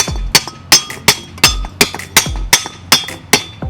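A part is knocked off a Porsche 928 strut assembly with repeated sharp metallic hammer strikes, about a dozen close, loud hits in a quick, slightly uneven rhythm, each with a brief ringing clink.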